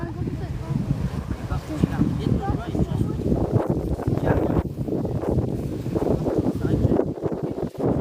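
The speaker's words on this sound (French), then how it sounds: "le vent se lève" Steady wind buffeting close to the microphone at a youth football match, with rumbling gusts and people talking underneath.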